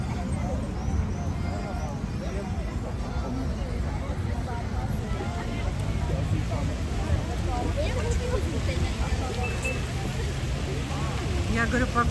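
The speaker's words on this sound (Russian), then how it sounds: "Ой, машины." Steady traffic noise fills a city street in Yerevan as cars drive past, a continuous loud roadway rumble with a faint babble of people in the background.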